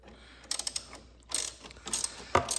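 A ratchet with a T25 Torx bit tightening bolts on a BMW R 1250 RS radiator guard, giving short clicking bursts in three separate spurts, close and crisp.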